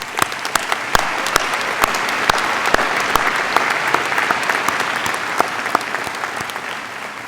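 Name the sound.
audience applause at diploma ceremony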